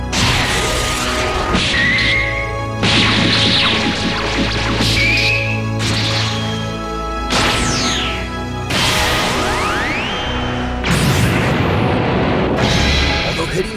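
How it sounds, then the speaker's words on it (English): Heavy cartoon punches land in a Dragon Ball Z fight between Gohan and Frieza: loud, broadband smashing impacts arrive every few seconds over dramatic music, with voices heard in the mix. "Although hitting Frieza with all of his strength"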